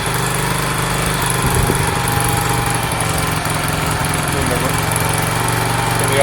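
A Sinnis SC125 motorcycle engine idles steadily and loudly up close, a constant buzzing drone without pauses throughout.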